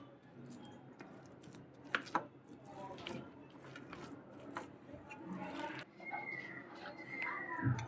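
Boiled potatoes are mixed and mashed by hand in a bowl, giving soft, uneven squishing and tapping sounds close by at a low level, with a couple of sharper knocks.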